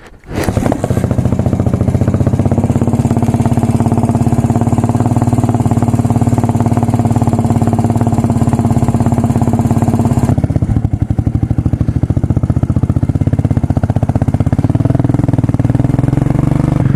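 Motorcycle engine with a freshly re-jetted carburetor idles steadily, loud and close, then shifts to a rougher, slightly varied running note partway through, with no talking.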